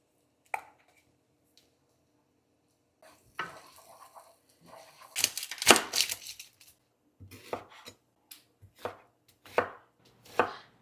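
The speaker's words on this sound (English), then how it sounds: "I slice some red onion." Knife slicing through red onion on a board: a lone cut, a pause, then a run of crisp, close chopping strokes in an irregular rhythm, with no voices.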